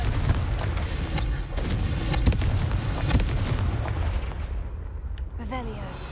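A Confringo fire spell explodes in the Hogwarts Legacy video game, a loud booming blast with crackling, rumbling bursts that roll on for several seconds before tapering off.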